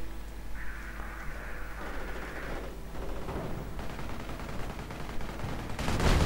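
Machine gun fire in a World War II strategy video game, with rattling bursts and scattered heavier battle booms in a busy, mid-level combat soundscape.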